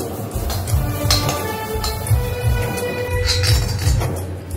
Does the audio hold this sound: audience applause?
no